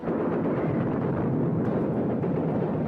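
Archival war footage of a napalm bomb blast from the 1967 Six-Day War: a loud, sustained, rumbling roar of explosion and fire that fills the whole moment without letup.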